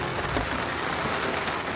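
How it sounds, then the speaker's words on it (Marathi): Steady monsoon rain falls on a village during the rainy season, a dense, even hiss of drops close by with no voices. "लावणीचा ॲक्च्युली हा पाऊस पडतोय."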